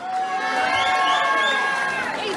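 Crowd cheering and whooping at an amateur boxing fight after a win by stoppage, a steady loud roar of many voices with no break, shouts rising and falling over it.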